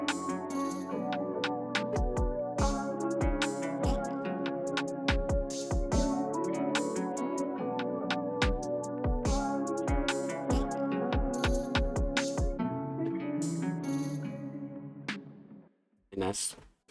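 A boom bap hip-hop beat with steady punchy kicks and a crisp hi-hat pattern over a looping sampled melody, loud and full, dropping out briefly near the end before a short final hit.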